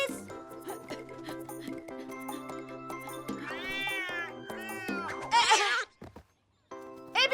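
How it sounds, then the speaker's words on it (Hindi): A cartoon cat meows and caterwauls in a children's animation, several drawn-out wavering cries over background music, loud and close, ending in a short silence. "ए बिल्ली, उस चिड़िया का पीछा छोड़ दे।"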